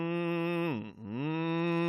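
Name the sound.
voice imitating a ship horn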